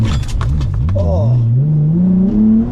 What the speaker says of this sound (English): And we have ourselves a drag race.